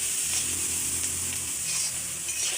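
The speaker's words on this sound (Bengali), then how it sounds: "আমি কিন্তু এই যে একদম হালকা তেলে পটলগুলো ভেজে নিলাম ঢেকে দিয়ে দিয়ে।" Pointed gourd frying in a little oil in a pan, a steady close sizzle that holds loud and even throughout with no talk.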